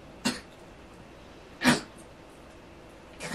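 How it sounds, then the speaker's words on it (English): A dog on a bed lets out two short, dry coughs about a second and a half apart, the second louder, with a faint third at the end over quiet room hiss. "My dog is coughing on my bed"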